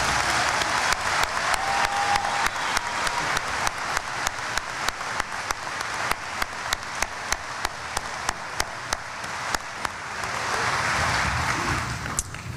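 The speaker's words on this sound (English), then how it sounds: "Please join me in another round of applause for the members of our graduating class of 2021." Sustained applause from a commencement audience honoring the graduating class of 2021, a dense wash of many hands clapping steadily for the full length, with a few sharper individual claps standing out and a slight swell near the end.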